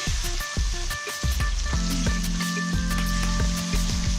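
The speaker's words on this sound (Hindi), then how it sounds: "और इसको उस वक्त तक मैं फ्राई करूंगी जब तक चिकन का कलर चेंज नहीं हो जाता" Chicken pieces fry with ginger garlic paste in a karahi for Afghani chicken karahi, giving a steady close sizzle with scattered crackles and stirring knocks.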